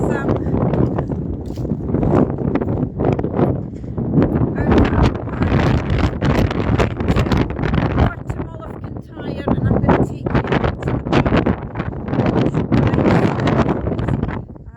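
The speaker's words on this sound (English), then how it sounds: "there's quite a lot of wind at the minute" Strong wind blowing across a farm on Arran during lambing season, heavy microphone buffeting in a continuous loud roar with gusty surges.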